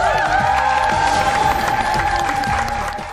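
A studio audience at a Korean talk show breaks into loud, dense applause and cheering that holds steady for about three seconds before tapering off at the end.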